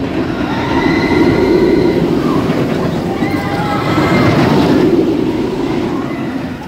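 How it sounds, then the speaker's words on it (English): B&M inverted roller coaster Black Mamba roaring past on its track, a loud sustained rumble that swells and fades over several seconds, with crowd murmur in the background. "And so you have the B&M inverted roller coaster Black Mamba."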